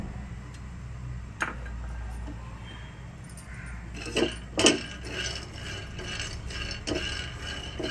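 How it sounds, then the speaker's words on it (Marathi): Peanuts dry-roasting in a pan for sesame laddoos, giving scattered light clinks and rattling taps over a low steady background, with a few sharper knocks near the middle. "प्रथम आपण शेंगदाणे भाजून घेऊया।"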